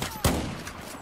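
One sharp, loud gunshot from a weapon in Battlefield 4 on the Baku map, played on PS4. It cracks early and leaves a long, noisy reverberant tail.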